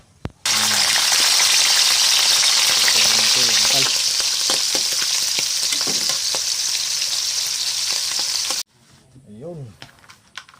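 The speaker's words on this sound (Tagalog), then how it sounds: "ang gagawin natin, pipritoy natin" Snails frying in a pan give a loud, dense, steady sizzle that starts abruptly and holds for about eight seconds before cutting off. A voice is heard under the frying near the start, and brief talk follows the sizzle.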